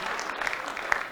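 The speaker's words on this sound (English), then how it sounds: "Round of applause for that gentleman being honest." Brief applause from a Rotary club meeting audience, a steady wash of clapping lasting about a second at moderate level.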